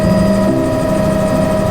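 A helicopter climbs out after takeoff, its rotor and turbine making a steady, loud, close whine and drone with a pulsing thrum throughout and no break.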